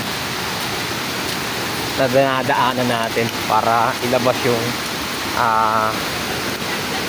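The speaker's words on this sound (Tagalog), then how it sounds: "yung ragasadong tubig" Loud, steady rush of fast-flowing floodwater across farmland fills the clip, with someone talking over it for much of the time.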